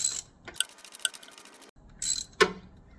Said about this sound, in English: At some point I can remove the ratchet and just get my hands on it and start spinning it out.